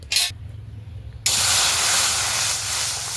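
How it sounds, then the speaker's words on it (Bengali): Water hits a hot kadai set over a lit clay stove, bursting into a loud, sustained sizzling hiss that follows a few quieter clinks and bumps, then slowly eases while staying strong to the end. "জল দিলাম, কড়াইটা গরম হয়ে গেছে।"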